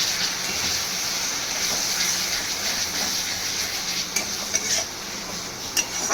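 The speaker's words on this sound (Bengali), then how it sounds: "এবারে আমি যে জলের মধ্যে লঙ্কা গুঁড়ো হলুদ গুঁড়ো গুলিয়ে রেখেছিলাম সেইটা দেবো। আবার কিছুক্ষণ কষবো।" Water mixed with chilli and turmeric powder goes into a sizzling pan of spiced masala for a Bengali katla fish curry, and a constant hissing sizzle is joined by occasional sharp scrapes of stirring. There are no voices.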